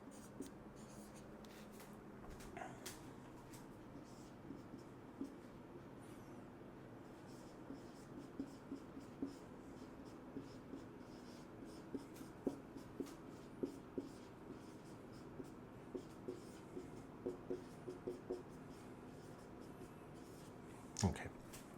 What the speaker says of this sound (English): I'm going to write down the expression